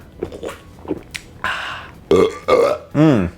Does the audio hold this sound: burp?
yes